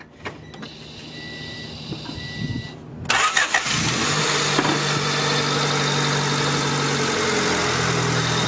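A cheap project Honda Civic engine cranks briefly and catches, then settles into a steady, fairly loud idle, preceded by light rustling and clicks from the car.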